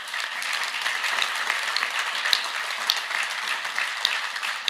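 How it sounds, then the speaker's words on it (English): An audience applauds steadily throughout at a speech on a New York City infrastructure law, dense sustained clapping from a crowd with no talk over it. "I think that gets a round of applause"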